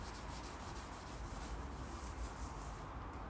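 A hand rubs cutting compound over a car headlamp on a Peugeot 406 GTX, giving a steady, close scrubbing and swishing with regular back-and-forth strokes and no voices.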